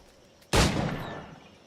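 A single loud firearm shot in Assassin's Creed Black Flag: a sharp, close blast with a bright crack and a long fading tail, standing alone with no talk.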